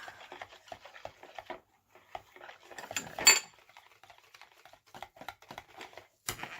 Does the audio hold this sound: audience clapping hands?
no